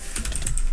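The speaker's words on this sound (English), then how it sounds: "It uses clicky switches that I believe are Otemu blues." Rapid clicky typing on a cheap budget gaming keyboard fitted with Otemu blue switches, a dense run of sharp, close keystrokes with no voices.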